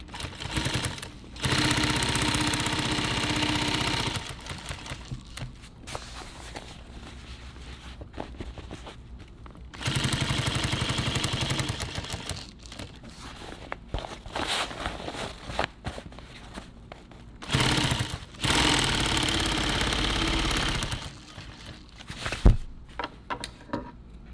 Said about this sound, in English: I'm sewing this with tan thread so you can see the contrast